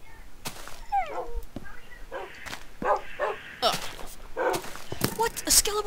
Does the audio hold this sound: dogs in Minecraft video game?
yes